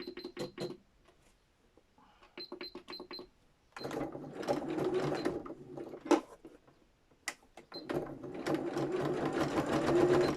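A basic sewing machine stitches a zigzag in quick mechanical bursts, stopping and starting with short pauses, close and clear, then running longer near the end.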